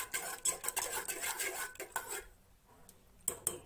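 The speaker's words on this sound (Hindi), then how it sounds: "हैंड मिक्सर से मिक्स करेंगे।" A hand mixer mashing cooked dal and bottle gourd in a pot for sambhar gives a close, scraping, clattering churn with rhythmic knocks against the pot, stopping partway before a couple of brief final knocks.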